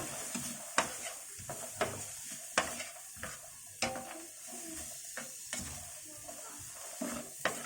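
Sliced onions stirred with a spoon in two spoonfuls of oil in a wide pan on a gas stove, a soft sizzle under repeated sharp scraping clinks, close and fairly quiet.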